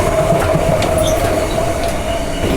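An empty passenger train runs along the track near Twickenham Station, giving a loud continuous rumble with a faint wheel squeal and light clatter throughout, and no voices.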